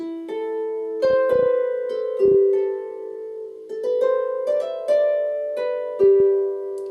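Plucked Celtic harp notes ring out one after another in a slow melody, each note sustaining and overlapping the next, played alone.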